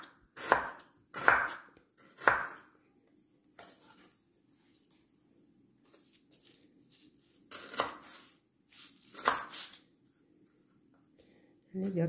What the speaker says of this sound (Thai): ก็จะหั่นบางๆเอา